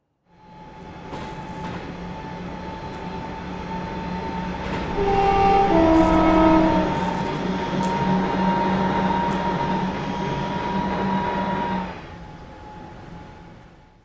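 A Class 350 electric train in Train Simulator rumbles along steadily on the West Coast Main Line Trent Valley with an electric whine, briefly swelling midway as a few short tonal notes sound, then fades away.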